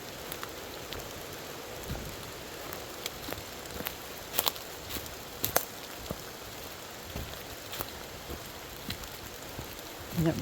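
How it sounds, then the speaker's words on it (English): Steady spring rain during an off-trail forest hike in Greenbrier, a constant close patter with scattered sharper drop hits and some footstep rustle. "Comes the rain again."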